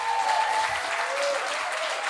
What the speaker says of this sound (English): Cullum and Alan, give them a round of applause, please.